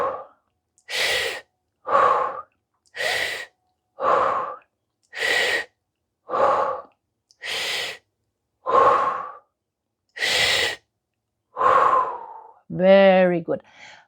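Slow, deep breaths taken during a stretching exercise for hip pain, a steady series of about a dozen evenly spaced inhales and exhales, close and clear, ending in a voiced sigh.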